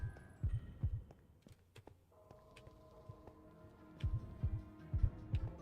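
Heartbeat in the Minecraft video game: deep paired thumps, loud at the start and again near the end, with a soft humming drone and faint ticks in between; no talking.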